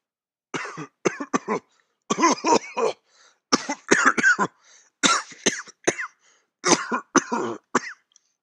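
A person coughs repeatedly in harsh, hacking bursts with short pauses between, close and clear, with some throat clearing mixed in.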